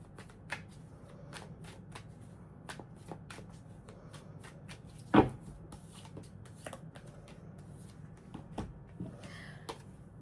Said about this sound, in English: So let me just do a couple more shuffles for Pisces.